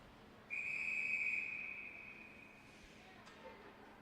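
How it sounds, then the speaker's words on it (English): A referee's whistle sounds once during an ice hockey game between Northwood and Pacific Steelers, a single sharp blast lasting about a second and tailing off against a quiet arena background. "the referee blows the whistle"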